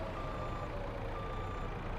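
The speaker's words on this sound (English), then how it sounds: "Is the forklift making beeping sounds?" A forklift in Farming Simulator 22 sounds steady electronic reversing beeps over a low, continuous engine rumble, moderately quiet and evenly paced throughout.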